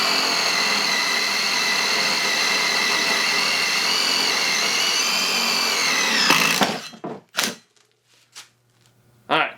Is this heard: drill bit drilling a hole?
yes